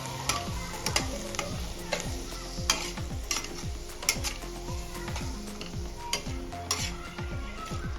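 Maggi noodles frying with Maggi masala and vegetables in a pan, a spatula stirring and tapping in quick repeated strokes over a steady soft sizzle, close and even throughout.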